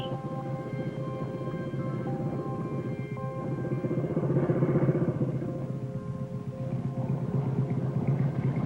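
A motorcycle rides through a junction in 1950s Liverpool, its engine a steady, fairly loud rumble with a continuous chugging beat that swells briefly midway, with no talk over it.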